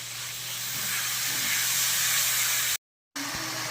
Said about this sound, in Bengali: এবার অল্প একটু জল দিয়ে টমেটোটা ভালো করে কষিয়ে নেব।